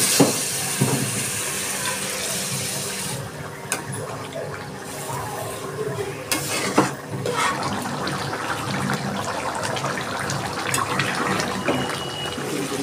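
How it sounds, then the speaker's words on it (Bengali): Boiled chicken stock poured into a pan of sizzling Bengali chicken kosha curry, a steady watery rush and hiss running continuously at close range with no talk. "আমি এবার চিকেনটা সিদ্ধ করার যে জলটুকু ছিল সবটুকু দিয়ে দিচ্ছি।"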